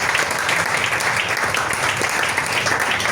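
A church congregation applauds in a dense, continuous wash of clapping that stays loud and even for a few seconds, with some voices mixed into the crowd noise.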